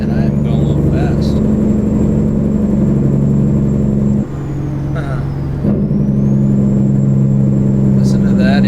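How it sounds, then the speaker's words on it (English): A Kenworth W900 in American Truck Simulator rumbles with a loud, steady engine brake, a deep continuous drone that briefly dips midway before resuming, with a high whine running over it. "Listen to that engine brake."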